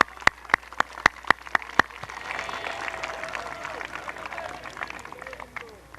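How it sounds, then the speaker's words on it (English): Graduation audience applause from a high school class of 2014 ceremony, a broad sustained wash of clapping from a large crowd following several sharp isolated claps, continuing loud and dense to the end. "give yourself a round of applause"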